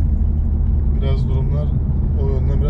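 A BMW M4 G82 rolls along a road with a steady low engine and road rumble, while someone talks throughout over the continuous drone.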